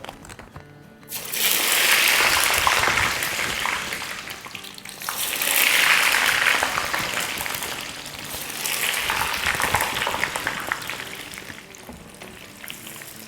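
Fries deep-frying in hot oil, bursts of loud bubbling sizzle that swell and ease in waves several seconds long, close and without any voices.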